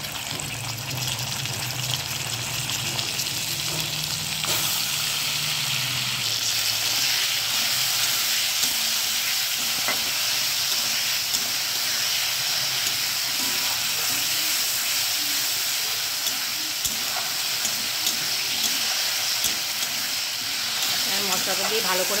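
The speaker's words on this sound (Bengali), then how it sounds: "মশলাটা দিয়ে ভালো করে কষিয়ে নেব।" Potatoes fry with spices in a pan, a dense steady hiss and sizzle with faint stirring clinks running throughout, moderately loud and unbroken.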